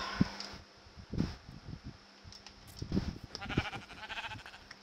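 Sheep in the video game Minecraft bleat several times in short, clear calls spaced about a second apart, over a quiet steady game background hum.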